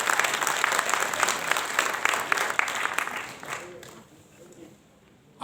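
An audience at an elder-care association's annual meeting in India claps vigorously for several seconds before the applause thins and fades out, leaving near quiet.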